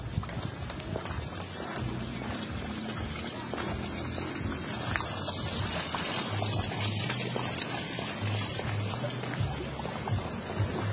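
Clear water gushes steadily in a stream in a peaceful village. The rushing sound is broad and continuous, holding an even level throughout without a break.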